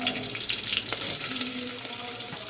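Onions sizzling in a pan for home-made chicken biryani, a steady dense frying hiss with a few faint stirring scrapes, close and moderately loud, with no voices.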